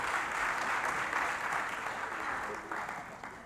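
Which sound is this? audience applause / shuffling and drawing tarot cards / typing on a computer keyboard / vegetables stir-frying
audience applause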